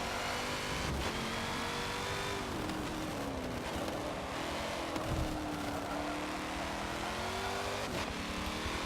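Race car engine in Forza Motorsport 7 roars continuously, revving and shifting with rising and falling pitch and brief gear-change dips, loud and steady throughout without talk.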